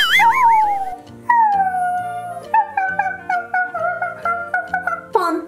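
A dog howls alone in long wavering howls, then gives a run of short, rhythmic yipping barks, loud and close.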